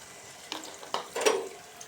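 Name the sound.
spice paste frying in hot oil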